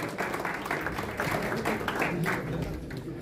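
Audience applause at an Urdu mushaira in Jamia Nagar, Delhi, welcoming a poet to the stage: steady, dense clapping from a crowd that holds for the whole stretch, fairly even and moderately loud.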